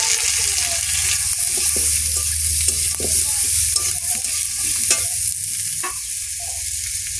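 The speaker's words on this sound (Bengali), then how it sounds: "ছাড়ানো গোটা গোটা পেঁয়াজ দেবো।" Whole peeled onions and panch phoron fry in hot oil in a pan, a loud, close, continuous sizzle with scraping stirring strokes and occasional clinks, and no talk.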